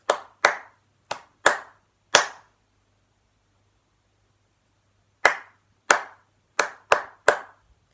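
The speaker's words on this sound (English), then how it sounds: "Don't clap that one back." Sharp hand claps in two rhythmic groups during a children's recorder lesson, five claps then a pause of about three seconds, then five more, close and crisp against a faint low hum.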